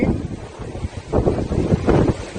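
Strong wind buffets the microphone on a mountaintop summit, a constant loud roaring rush with gusts swelling and fading across the whole stretch and no voices.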